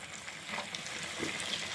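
Tempering sizzles in hot oil for a gongura chutney, a quiet, steady frying crackle with small pops, alone and close.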